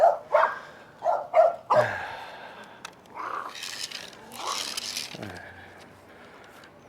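Several dogs bark sharply in a quick burst of loud yaps close by, then scuffling and rustling noises follow.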